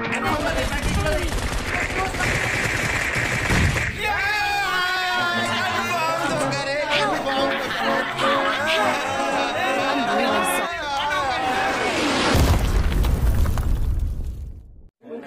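Gunfire and explosions from the battle royale video game PUBG, a dense continuous mix of shots and blasts under nearly constant voices and game chatter, with a louder burst near the end.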